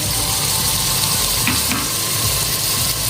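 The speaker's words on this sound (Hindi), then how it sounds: "ये हम आधे कप ऑयल में डाल देंगे। साथ ही हम इसमें 2 टेबलस्पून सिरके के डालेंगे।" Chicken strips in half a cup of hot oil with two tablespoons of vinegar, a loud, dense, continuous sizzle and hiss heard close up with no voices.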